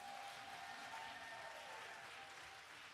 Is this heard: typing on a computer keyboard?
no